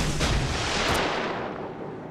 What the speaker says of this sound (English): I've got torpedoes away on the Giffords.